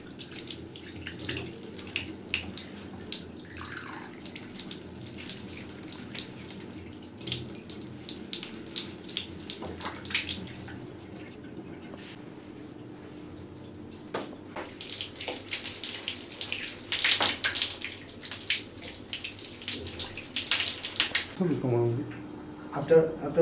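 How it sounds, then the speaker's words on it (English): Running tap water splashing as hands and feet are washed, a soft continuous stream with intermittent gushes and drips, fairly quiet and close, with a person speaking at times over it. "So now I am going to wash hands and feet."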